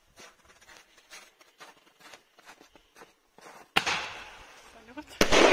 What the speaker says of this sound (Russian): А он по отдельному шарику идет, этот салют.